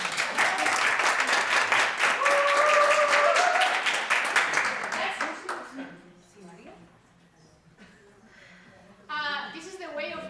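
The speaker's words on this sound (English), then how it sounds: "Big applause to the volunteer." An audience applauds a volunteer at a talk, loud dense clapping for about five seconds that fades out, followed by someone speaking.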